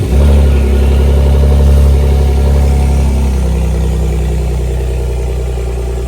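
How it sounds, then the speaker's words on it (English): A Ford Raptor pickup truck's engine roars loudly at cold start with exhaust valves closed, its deep rumble settling slightly into a steady, heavy idle that drones on. "here's a cold start so you guys can see how it really sounds in the morning"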